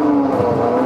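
The Apollo IE supercar, with a 6.3-liter 780-horsepower Ferrari V12 from the F12 Berlinetta and a 9,000 RPM redline, revs in a brief, loud, high-pitched, steady engine note.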